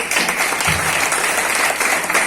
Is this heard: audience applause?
yes